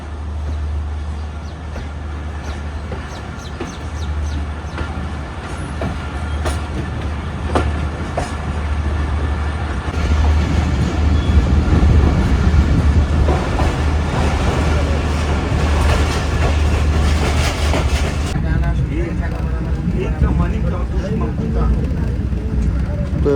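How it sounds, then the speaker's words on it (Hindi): The 4 Down Bolan Mail passenger train pulls out of a Pakistani junction station at midday and runs along the tracks. A steady, loud low rumble builds with rattling wheels and clacking carriages. Faint voices may sit beneath the noise. "दोपहर 12:30 बजे हमारी ट्रेन इस वक्त निकल रही है"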